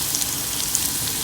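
Frying in hot oil while cooking thaalagam, a Kerala curry: an even, steady sizzle with faint crackles and small pops, continuous and close, with no talk.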